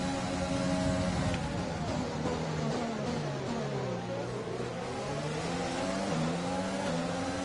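Formula 1 race car engines from the F1 2020 game scream continuously, rising and falling in pitch through gear changes on a street circuit in Azerbaijan, loud and close with no talk.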